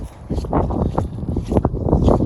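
Wind buffets a microphone during winter camping in snowy Montana, a steady rough rumble with gusting surges, close and loud, with no clear voices.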